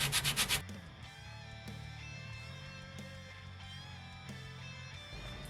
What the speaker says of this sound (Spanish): puedes colocarla en una superficie plana y lijar